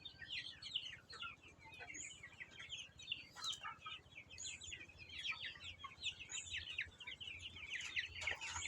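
Sonali chickens on a semi-intensive poultry farm cluck and chirp continuously, a dense layer of overlapping bird calls from many birds at moderate distance, with a low steady hum underneath.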